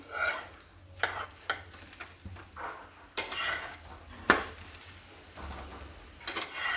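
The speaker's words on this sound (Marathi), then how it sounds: "थोडंसं त्याला खरपूस भाजून घेऊया" A sprouted mung bean and jowar flour flatbread roasts on a hot pan with a soft sizzle, punctuated by scattered scraping and clinking of a utensil against the pan.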